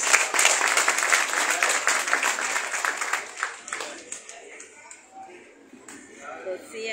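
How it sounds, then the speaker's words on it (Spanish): Applause at a recognition ceremony for neighborhood committees, a crowd clapping loudly at first, then thinning into scattered claps and quieter murmurs toward the end. "Un fuertísimo aplauso para Marta Elizabeth Cervantes Martínez"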